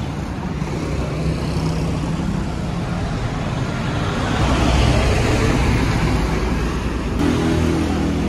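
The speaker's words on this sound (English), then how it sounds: "that traffic is backed up all the way to the Wilcon" Backed-up road traffic near a beach gives a dense, continuous rumble of engines and tires, loud and steady with no clear individual vehicles.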